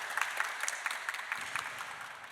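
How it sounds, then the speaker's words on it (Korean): Steady audience applause at a gallery talk event, dense overlapping claps with a few sharper individual ones, moderately loud and continuous with no talking over it. "다시 한번 박수 좀 부탁드리겠습니다"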